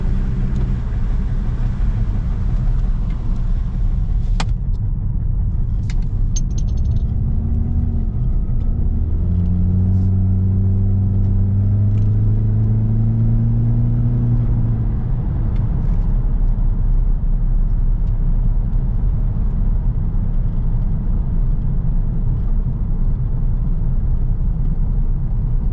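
A Saab 9-5 Aero with a leaky exhaust drives along, its engine rumbling low inside the cabin as it pulls through rising then falling revs, with a droning road roar the whole way and no one talking.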